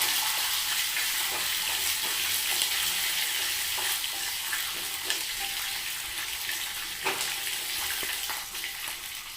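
Peanuts with dried and green chillies fry in a pan for a lemon rice dish, giving a continuous loud sizzle with occasional crackles and light stirring scrapes throughout.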